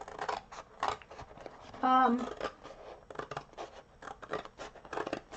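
Scissors cut up an empty cereal box for making tags, a steady run of scratchy snips and crinkles close by, with a brief tonal squeak partway through and some talk in the background.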